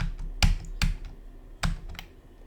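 Keys on a computer keyboard tapped while tabbing through a CentOS installer in VirtualBox: a few sharp, separated clicks with irregular spacing, close and moderately loud over a low background hum.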